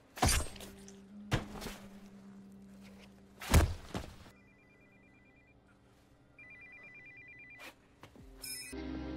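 Telephone ringing in a film scene, a steady electronic ring tone in short spells broken by loud thuds and crashes, with a brief squeal at the end.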